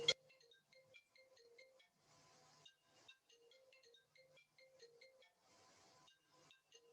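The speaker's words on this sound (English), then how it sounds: "Sorry, I have to let that phone ring out." A telephone rings faintly in a lecture hall, playing a repeating electronic ringtone melody of short beeping notes that keeps going for several seconds.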